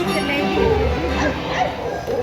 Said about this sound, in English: Even the dog is singing.